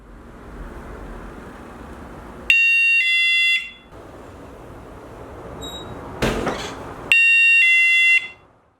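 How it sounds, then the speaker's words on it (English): A shrill electronic motion sensor alarm blares in two bursts of pulsing high tones, loud and close, separated by a quieter stretch with a brief clatter. "the motion would be sensed and an alarm would sound"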